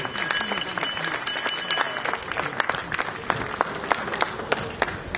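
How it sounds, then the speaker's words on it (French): Dense audience applause with sharp individual claps, steady and close throughout, with faint crowd murmur mixed in and no speech. "Est-ce que vous pouvez applaudir très très fort"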